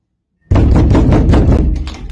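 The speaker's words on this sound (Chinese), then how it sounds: "这至少说明敲门的声音不是后期加上去的。" A rapid series of hard knocks on a door, about eight heavy blows packed into under two seconds, loud and close, starting abruptly after a moment of silence.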